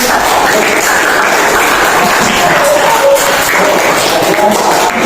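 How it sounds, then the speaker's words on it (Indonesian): A classroom group applauds in a dense, sustained burst of clapping that continues steadily and fairly loudly for about five seconds, with no other sound standing out. "Oke, kasih tepuk tangan."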